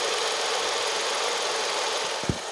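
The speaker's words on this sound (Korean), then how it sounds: "바로 엔진 소리 한번 들려드릴게요." A 2012 Kia Ray gasoline car idles with its hood open, giving a steady, fairly loud engine hum with one brief low thump near the end.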